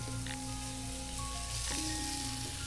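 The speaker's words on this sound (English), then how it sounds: "And you can hear that sizzling." Chicken sizzles steadily in a hot pan, a continuous crackling hiss with a low hum and a faint tone running beneath.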